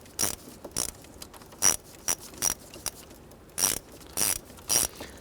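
Fan control switch screws snugged down on a 1997–2006 Jeep Wrangler, a close series of sharp ratchet clicks in small irregular bursts against a quiet background.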